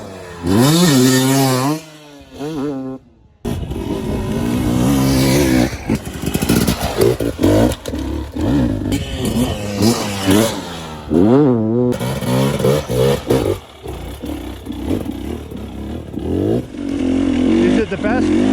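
A 2020 KTM 250 XC TPI dirt bike ridden on a trail, its engine loud and close, revving up and down in repeated rising and falling surges with short throttle-offs between bursts.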